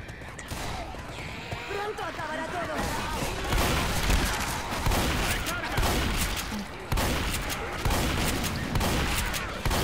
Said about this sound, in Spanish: ¿Qué son esas explosiones?